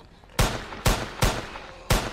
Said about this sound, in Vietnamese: Cầm súng bắn được rồi các bạn này. Để thử bắn.